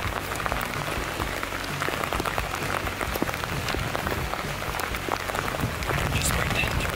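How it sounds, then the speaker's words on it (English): Rain falls on the Appalachian Trail near Damascus, Virginia as a continuous patter of drops across the brief stretch, with speech also present. "it started to rain"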